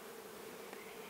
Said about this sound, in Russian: Здесь обитают только правильные пчелы, которые делают правильный мед.